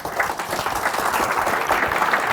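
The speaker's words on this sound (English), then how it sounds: "A round of applause." A chapter meeting audience breaks into applause as a guest is welcomed, a close, dense burst of clapping that stays steady and loud.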